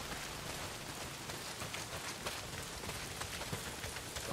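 Rain falls steadily in the video game Days Gone, a constant dense hiss of drops striking surfaces with scattered sharper patters, faint and even throughout with no voices.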